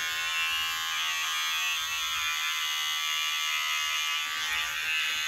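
An electric shaver takes down hair during a full head bond fitting at a hair clinic, giving a steady, close, high-pitched motor buzz that runs without a break from start to finish, with no talking.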